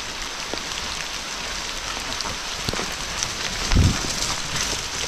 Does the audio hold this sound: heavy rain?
yes